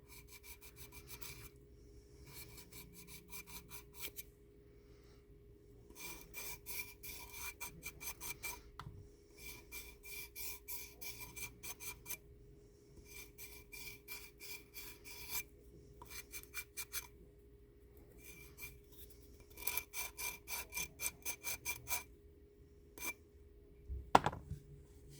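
A hydrocast piece is hand-sanded to remove air bubbles, making quiet, close, rhythmic rasping strokes in short bursts separated by pauses, with a brief knock near the end.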